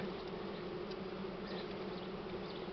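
A colony of honey bees hums continuously and evenly during a honey harvest, a close, steady drone with no voices.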